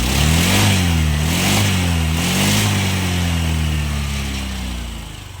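A Honda Click v3 scooter with a fuel pump problem revs up and down in a few rising and falling surges, loud and close, then settles into a fading idle; nobody speaks.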